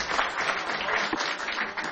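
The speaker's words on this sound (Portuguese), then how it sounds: "Fica aplaudindo." An audience clapping at a gathering about municipal guards carrying firearms, a brief, even patter of many hands, moderately loud and steady throughout.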